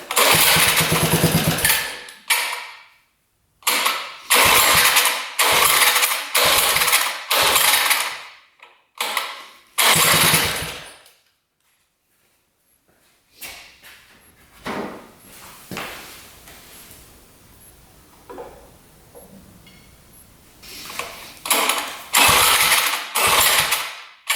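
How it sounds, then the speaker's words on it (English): A rare motorcycle engine with an idle that needs adjusting runs loud and close. It gives a string of sharp revving blips with short silent gaps, then settles into a quieter, uneven, sputtering idle before revving again. "I think the idle needs to be adjusted a little bit."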